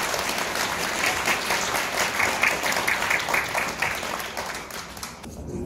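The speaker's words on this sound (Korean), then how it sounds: "큰 박수로 맞이해 주십시오" A crowd applauds at a book launch talk show in a Catholic youth culture space at Hongik University. The clapping is continuous and even throughout, fairly close, with little else heard.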